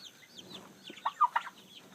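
Young guinea fowl and chickens in a rearing pen give soft clucks and chirps, scattered and fairly faint, with a few louder calls clustered near the middle.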